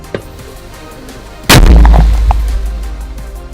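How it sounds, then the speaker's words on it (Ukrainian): A single loud artillery blast booms suddenly after a quiet moment, its deep rumble lingering and fading over the next couple of seconds. "Постріл!"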